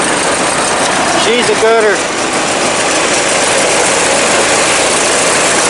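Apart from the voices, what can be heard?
2001 Murray garden tractor, 20hp Briggs opposed twin engine running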